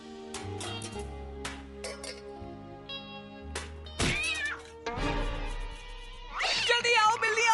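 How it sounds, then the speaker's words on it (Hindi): Cartoon cats meow again and again in a Hindi-dubbed episode of Johnny Test, their calls overlapping in quick bursts with music and effects, growing louder toward the end. "जल्दी आओ, बिल्लियाँ आ गई।"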